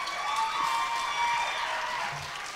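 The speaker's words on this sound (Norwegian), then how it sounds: "Stor applaus." A talent show crowd at UKM Halden 2015 gives a steady wash of clapping, even and fairly distant, fading slightly toward the end with no talking over it.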